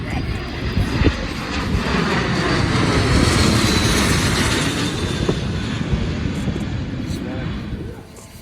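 An airplane passes overhead in an outdoor plaza in Malaga, Spain, its broad engine roar swelling to a peak mid-way and slowly fading, with a child and an adult talking and scattered voices nearby.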